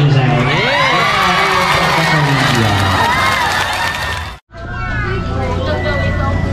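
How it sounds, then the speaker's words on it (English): A small group of people cheer, shout and clap in a lively burst, voices overlapping up close before a brief cut and more chatter. "How about a well-deserved round of applause to Mami Angel?"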